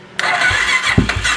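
A Suzuki LTZ 400 ATV with head and valve train problems cranks and fires up, its small engine catching abruptly into a loud, rough, close-up running note with a brief stumble midway.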